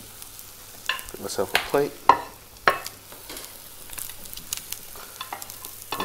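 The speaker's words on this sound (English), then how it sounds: "then I'm going to flip the omelette over with the spatula" A tomato omelette with fresh herbs sizzles softly in a pan while a spatula scrapes and flips it, giving a few close clatters and taps as someone speaks briefly.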